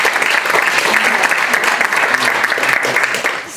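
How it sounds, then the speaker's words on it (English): Audience applause at a school open house, a dense burst of clapping from many hands that holds steady, then begins to fade at the end. "Can we give them a round of applause?"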